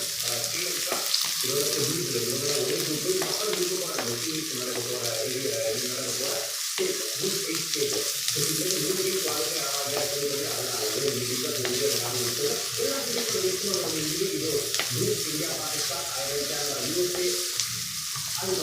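Small onions fry for kurma in a pan, giving a continuous close sizzle broken by scraping and stirring sounds throughout.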